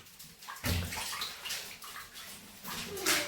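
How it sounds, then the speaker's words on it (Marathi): Live crabs being washed in water before cooking, with close splashing and sloshing bursts that repeat in uneven surges, loud and without talk. "चांगलं धुवा चांगलं पाच पाण्याने"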